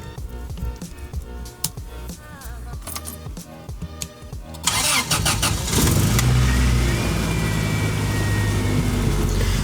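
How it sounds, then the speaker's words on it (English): Toyota 4Runner with a swapped 3RZ engine and a newly installed transmission: several seconds of rhythmic starter cranking with a faint key jingle, then the engine catches and settles into a loud, steady run up close. "This is the first time I'm starting the truck with the new transmission in it."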